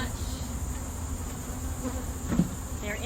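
Honey bees hum in a steady, close drone inside a hive box being worked on to fix cross-combed frames, with a few sharper buzzes near the end.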